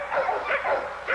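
A young female pit bull gamedog at a kennel gives a quick run of close, high, yipping barks, about three short bursts in just over a second.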